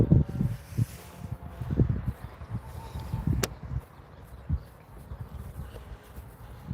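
Gusty outdoor wind buffets the microphone in uneven low rumbling bursts, rising and falling through the whole stretch with no one talking.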